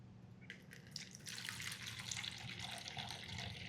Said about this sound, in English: I'll put 310 grams of water in that.